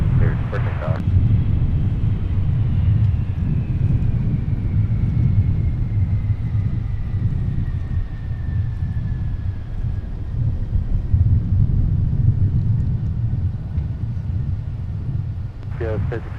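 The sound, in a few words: airliner taking off from runway 30 right at Minneapolis airport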